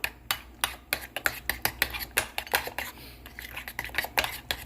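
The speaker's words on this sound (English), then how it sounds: "I'm just going to give this a stir" Metal utensil clinks and scrapes rapidly against a bowl while stirring raw burger mixture seasoned with garlic powder, a dense run of close, bright strikes with no talk.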